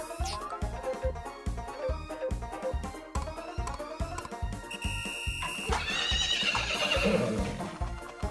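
A horse at a race in the farming game Story of Seasons neighs loudly over steady clip-clopping hooves and busy game music.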